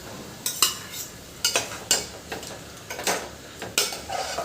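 A spoon mixing yogurt with salt, turmeric and chili powder in a bowl for rajma biryani, a run of quick scraping clinks in uneven bursts, close and loud with no speech.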